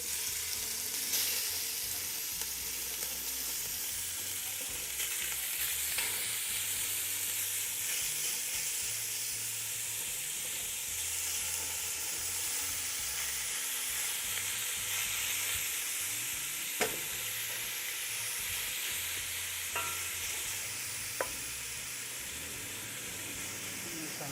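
Pork belly frying in a pan for adobo, a continuous loud sizzle and hiss with occasional stirring clicks, steady and close throughout.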